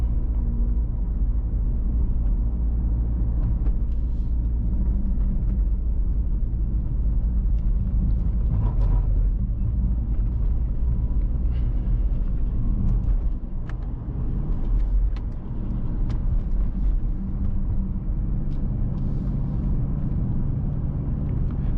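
A 2024 Mercedes-AMG GLC 63 S on a night drive gives a steady, deep engine rumble with road noise that stays even throughout, with no talking over it.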